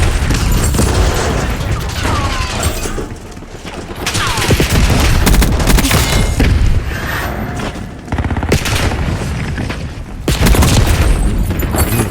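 Sustained gunfire from a Call of Duty Black Ops 6 Warzone match, loud and dense, with rapid bursts and booming shots rolling almost continuously across the scene, thinning briefly in a couple of spots before surging again.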